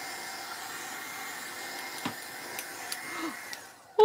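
A heat tool blows a steady, close airy hiss while drying gel on an altered art piece with metallic flakes on a dragonfly, with a few faint ticks and a sharp clunk at the very end.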